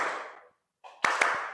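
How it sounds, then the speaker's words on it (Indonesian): A few sharp hand claps in a quick uneven burst, demonstrating a second style of clapping in an arts and culture classroom, following a stretch of broadband crowd-like noise and a short silence. "Tepuk tangan yang kedua"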